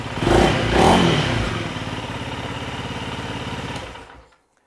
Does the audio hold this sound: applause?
no